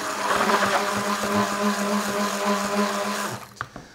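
A blender whirring steadily through curd casserole batter, a loud even motor hum with a slight rising pitch, cutting off abruptly near the end with a couple of clunks.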